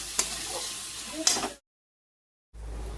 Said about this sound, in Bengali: এদিকে যে পনিরের আলু আর মশলা কষাচ্ছি